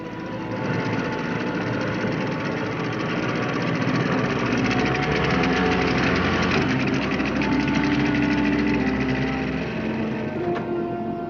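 A speedboat engine runs steadily at a remote dock, a continuous loud low rumble with vibration holding throughout without pause.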